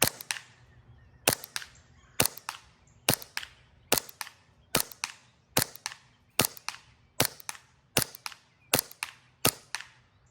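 A Novritsch SSP5 Hi-Capa airsoft pistol fires about a dozen sharp, evenly spaced shots, each a crisp snapping crack, until the magazine runs empty.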